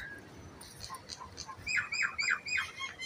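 Small birds chirp in a quick, bright run of repeated tweets, faint at first and growing busier and louder toward the end, over a soft hiss of background noise with no talk.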